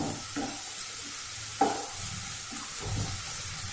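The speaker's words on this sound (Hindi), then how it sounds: "तो ये हम प्याज को और लहसुन को अच्छी तरीके से भून लेंगे।" Onions and garlic sautéing in a pan while spices are roasted for a Rajasthani masala tinda dish, a soft steady sizzle with stirring scrapes and a brief clink near the middle, no voices.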